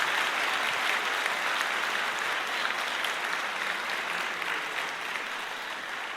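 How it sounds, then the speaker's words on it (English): Sustained applause from a concert audience for a freshman school band, a dense, even wash of many hands clapping at a moderate distance that continues throughout and fades slightly toward the end. "One more round of applause"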